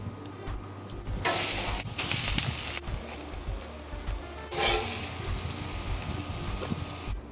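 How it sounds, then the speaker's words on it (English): Spinach and onions sizzle loudly on a Blackstone griddle, a steady hiss that flares into sharper spitting bursts as they cook. "Cook the spinach and the onions."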